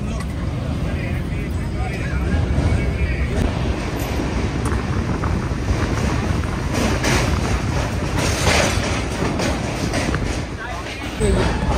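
Shramjeevi Express with LHB coaches rolling on rails near Varanasi, a steady loud broadband rumble with rail noise throughout, a brief surge near the middle, and faint voices beneath.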